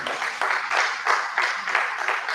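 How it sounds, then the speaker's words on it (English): Audience at an academic seminar on publication ethics claps for a speaker, a moderate round of applause with slightly pulsing, uneven bursts at medium distance. "A round of applause for him."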